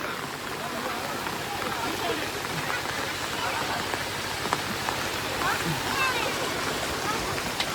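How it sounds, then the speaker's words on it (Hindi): Dense, continuous rain pours down in a village after days of nonstop rain, with rushing floodwater underneath from overflowing rivers, canals and ponds, loud and steady throughout, with faint voices in the background. "2 दिन से कंटिन्यू पानी बरस रहा है"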